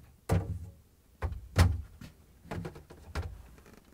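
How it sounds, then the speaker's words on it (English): In a GE refrigerator, the plastic crisper drawer support frame is lifted and pulled out, giving a few soft, close clunks and brief scraping knocks in a quiet room, with no talk. "Now we can remove these crisper drawer support frame and lift it up and pull out."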